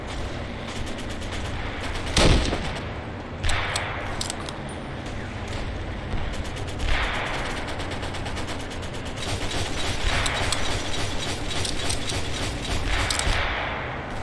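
Weapon fire from a distant gun position in the WW2 Online battle game, a sharp shot near the start with a few fainter reports later, over a steady dense bed of battlefield noise and mechanical clatter.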